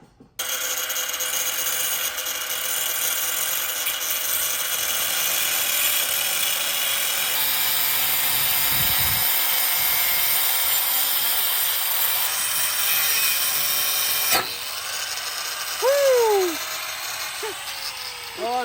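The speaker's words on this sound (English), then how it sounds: "I still got my cutoff wheel." An abrasive cutoff wheel grinds steadily through a metal mini bike part in a garage-style workspace, a loud continuous whine that holds for most of the stretch before the cut ends and the tone drops away.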